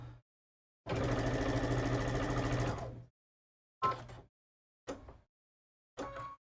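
Sewing machine stitching through cotton fabric on a straight stitch needle plate: one sustained two-second run of rapid, steady needle chatter, then three short bursts of stitching, loud and close with no talking.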